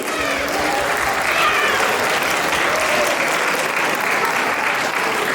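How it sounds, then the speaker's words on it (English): Sustained applause from a school assembly audience celebrating Women's History Month, a dense, even wash of many hands clapping at steady loudness throughout with no pauses. "Let's give it a round of applause for the women and ladies"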